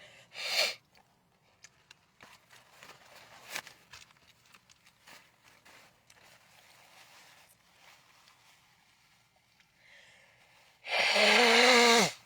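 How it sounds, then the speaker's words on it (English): A loud, long honking nose blow near the end, with a brief sniff-like burst at the start and quiet shuffling in between, in a Walmart parking lot. "I gotta blow my nose"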